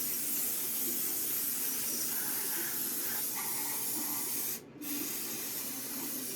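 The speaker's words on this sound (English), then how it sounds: "brake clean bath" Brake cleaner is sprayed onto Poulan chainsaw parts in a continuous close hiss that runs almost the whole time, with a brief break near the end before it resumes.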